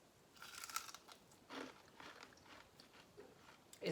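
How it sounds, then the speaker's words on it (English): Several crisp crunching bites into mustard fried chicken in close succession, dry crackly bursts with short pauses between them, close and fairly quiet. "I'll bite into it to let you see how crunchy it is."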